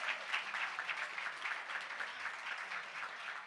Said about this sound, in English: Let's give the family a big round of applause.